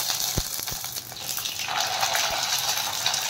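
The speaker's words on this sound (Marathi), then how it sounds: "मस्त आपण कुरडई तळून घेणार आहोत" Kurdai, a papad-like crisp, frying in hot oil with a steady loud sizzle and crackle, broadening after the midpoint, with a few sharp low knocks near the start.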